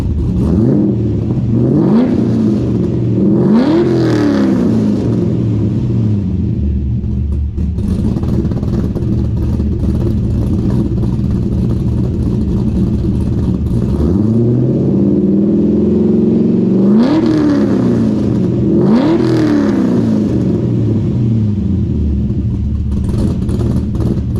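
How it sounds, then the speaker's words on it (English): A Chevrolet Corvette C6 engine fitted with an aftermarket Corsa or Borla exhaust idles loudly, then is revved twice in quick succession, a short pause, then revved twice more, each blip swelling and falling back to a steady rumble. "We'll let it warm up here a couple minutes, and we'll give it a couple revs too."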